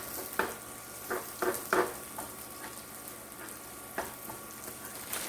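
Onions sizzle and fry in a pan while being tossed and stirred, a steady close crackle with several sharper scraping knocks from the utensil, no speech.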